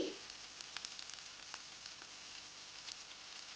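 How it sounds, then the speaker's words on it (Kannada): Mustard seeds and cumin sizzle in a tablespoon of hot oil for a okra dish, a faint, steady frying hiss dotted with small crackles and pops, with no talking over it. "ಮೊದಲಿಗೆ 1 ಟೇಬಲ್ ಸ್ಪೂನಷ್ಟು ಎಣ್ಣೆಯನ್ನು ಬಿಸಿ ಮಾಡಿ ಅದಕ್ಕೆ ಸಾಸಿವೆ,"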